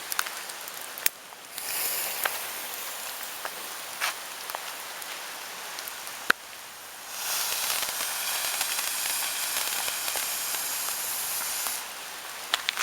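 A firework volcano fountain hisses steadily outdoors, a broad spraying rush that cuts in and out in long bursts with sharp crackles scattered through, fairly faint and with no talking.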